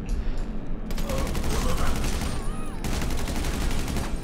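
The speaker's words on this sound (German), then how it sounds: "Die schießen auf uns." Sustained gunfire fills a GTA V heist shootout, rapid overlapping shots rattling continuously for several seconds with faint voices underneath.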